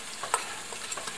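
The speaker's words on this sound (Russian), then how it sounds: "Зажаривается лучок" Chopped onion frying in a pan for plov gives a short, quiet, steady sizzle broken by a couple of soft stirring clicks.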